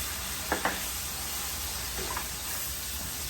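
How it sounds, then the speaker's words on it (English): Shallots and garlic sautéing in a pan for garlic butter shrimp, a soft steady sizzle throughout with a couple of brief stirring scrapes near the start and another faint clink midway. "we're going to saute our shallots until they become nice and translucent. We're also going to add a good amount of garlic"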